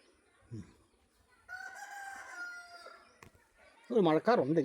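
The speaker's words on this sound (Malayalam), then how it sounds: "നമ്മുടെ കോഴികളൊക്കെ ഇതിൽ തുള്ളിക്കളിച്ചൊക്കെ നടക്കുന്നുണ്ട്" Chickens cluck and a rooster crows loudly near the end, with short bird sounds and a sustained tone earlier, close by in a quiet yard.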